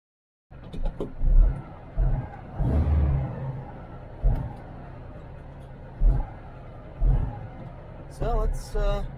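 A race-prepped car nicknamed the Red Bug runs on a test drive, its engine surging in repeated revving bursts with a rumbling low end, plus a brief higher whir near the end.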